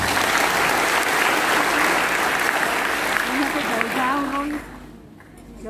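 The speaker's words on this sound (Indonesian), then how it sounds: "Tepuk tangan untuk kalian semua." Loud audience applause from a large crowd at a cadet inauguration night at PIP Makassar, sustained and dense, then tapering as a voice begins to speak over it near the end.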